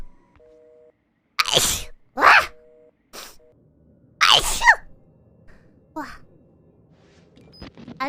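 A young woman sneezes several times in quick succession, sharp explosive bursts close to the microphone with short breathy pauses between, preceded by a couple of soft electronic beeps.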